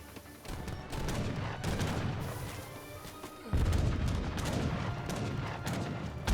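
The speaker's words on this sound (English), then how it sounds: "Culverins firing away." Culverin artillery in an Age of Empires 3 battle fires repeatedly in dense, booming volleys, layered with crackling gunfire and crashes, loud and continuous with no speech.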